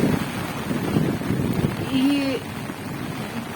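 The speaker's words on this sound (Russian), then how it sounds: "Дождь идет, ветер ужасный, листья все поднялись." Strong wind buffets the microphone in a steady, loud roar on a rainy day near a lake, with a brief voice heard over it.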